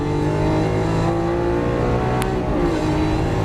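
Lamborghini Aventador on a Las Vegas race track, engine screaming at high revs under hard acceleration, loud and close, with a brief sharp squeal near the end.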